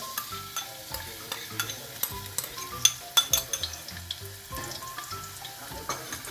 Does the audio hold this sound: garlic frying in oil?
yes